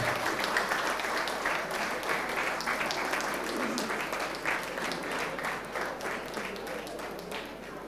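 Strong, steady audience applause at a Guru Purnima honouring ceremony of a Vedic astrology institute, filling the whole stretch as many hands clap together without a pause.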